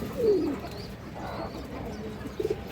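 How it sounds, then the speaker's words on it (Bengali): A female Army breed pigeon gives soft, low cooing, a brief call near the start and a short burst near the end over faint background noise. "খুব সুন্দর একটা আর্মি মাদি কবুতর"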